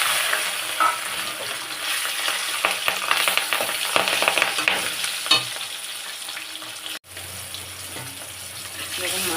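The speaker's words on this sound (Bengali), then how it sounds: "মাছটা ভাজা হয়ে গেছে" Pieces of fish rubbed with turmeric and salt fry in hot oil, giving a steady, dense crackling sizzle throughout, close and fairly loud, with a brief dip near the end.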